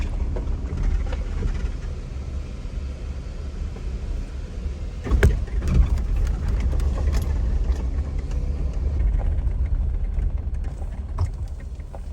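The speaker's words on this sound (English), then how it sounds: "This hike is heading to Peter Point, and it includes driving on a dirt road" An RV drives along a dirt road in Kejimkujik National Park, Nova Scotia, with a steady low engine and road rumble inside the cabin and a brief clatter of rattles and knocks around the midpoint.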